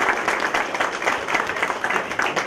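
Dinner guests at a veterans Thanksgiving dinner applaud in a room, a brief burst of many hands clapping at moderate volume, steady for a couple of seconds.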